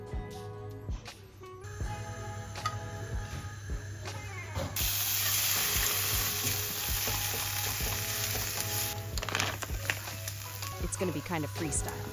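Scrambled egg cooks in a pan with chorizo and bacon, a steady sizzle and hiss running throughout, punctuated by occasional scraping stirs while someone talks over it.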